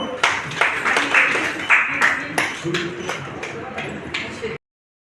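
A crowd claps at a hospital opening ceremony, a loud, close burst of applause in uneven waves that fades to silence near the end, with voices mixed in.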